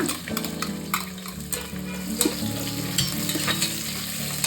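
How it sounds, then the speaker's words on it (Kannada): Chopped onions frying in hot oil with pulao spices for a chicken donne biryani, a close, even sizzle with repeated sharp scrapes and clinks of a ladle against the pan. "ಇವಾಗ ಈರುಳ್ಳಿ ಕಲರ್ ಚೇಂಜ್ ಆಗೋ ತನಕ ಹುರ್ಕೊಳ್ತೀನಿ"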